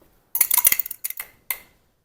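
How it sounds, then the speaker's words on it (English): Close clinks and taps of a utensil against a bowl while whisking an egg wash for cottage cheese bagels, a quick burst of rattling strikes followed by two shorter separate clacks, with no talk. "Now I'm just going to create an egg wash for the top of this."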